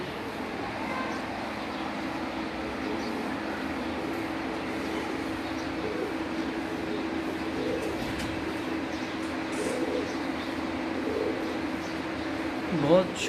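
Pigeons coo softly in the background under a steady hum, with low murmured voices now and then.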